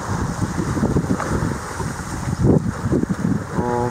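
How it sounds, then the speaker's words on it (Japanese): Waves splash and slosh at the shoreline, carrying floating pumice stones at Malibu Beach beside a resort hotel in Onna, Okinawa, heard close and loud under gusty wind noise buffeting the microphone. "いっぱい波でジャブジャブしてるのが軽石っぽい感じになってますね。"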